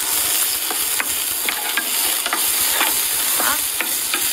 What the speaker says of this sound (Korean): 이렇게 볶아주시고 어느 정도 익었으면 베이컨과 소시지를 넣어서